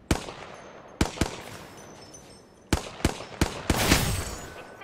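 Video game gunfire in a hardcore battle royale match: sharp, loud, isolated shots arrive in uneven pairs and clusters, followed by a longer, denser burst near the end.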